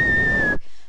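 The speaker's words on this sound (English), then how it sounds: "So if I whistle, we should see the numbers going up." A single sustained whistle by a person holds one steady pitch for about half a second and then stops abruptly, alone and close.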